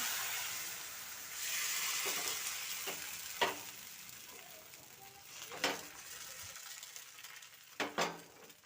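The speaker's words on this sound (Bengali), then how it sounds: "আবারও এক হাতা ব্যাটার দিয়ে দিলাম" A ladle of rice and urad dal batter hits a hot pan and sizzles in a broad hiss that slowly fades, with a few close clinks and scrapes of a utensil on the pan.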